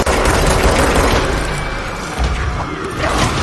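Gunfire in the video game Control: a loud, dense burst of rapid shots and booming impacts that fills the whole moment without pause, close and harsh.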